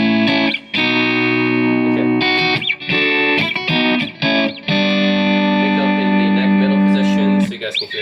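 Clean electric guitar notes and chords ring out with a spacious reverb tail, sustained and loud, with brief pauses between phrases.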